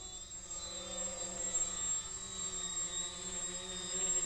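RC VTOL model aircraft hovering while still moving fairly fast, giving a continuous, steady whining drone with a high tonal whine throughout, moderately loud and unbroken.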